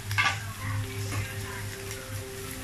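Egg frying in a pan for a Thai bitter melon and egg stir-fry, a steady close sizzle with crackling bursts and light stirring, continuous throughout.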